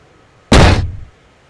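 A plane's cargo door in the flight game Flyout slams shut with one loud, abrupt thud that decays quickly into quiet.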